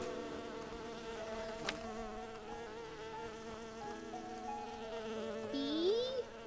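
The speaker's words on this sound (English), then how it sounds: "More bees." Buzzing bees in the video game Enderal, a steady insect drone running throughout with a brief louder swell near the end over game music.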